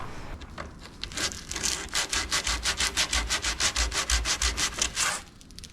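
Folded sandpaper rubbed by hand across a marble dresser top, a steady run of quick back-and-forth rasping strokes, close and fairly loud, with no talking.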